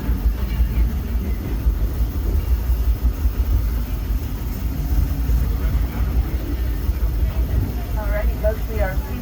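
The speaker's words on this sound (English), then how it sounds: "we are steaming our way toward Mickey's Toontown Depot" The Disneyland Railroad steam train rumbles along at night, a steady low rolling clatter with faint squeals toward the end, under a conductor's narration.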